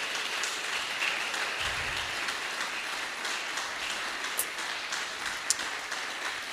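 A church congregation applauding steadily, a dense wash of many hands clapping at moderate distance with a few sharper individual claps standing out.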